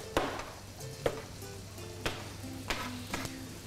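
Onions frying in butter in a pan, a soft steady sizzle with intermittent light knocks and stirring clatter, heard faintly and without talk.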